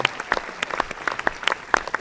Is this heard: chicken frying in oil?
no